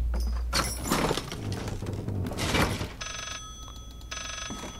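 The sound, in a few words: telephone ringing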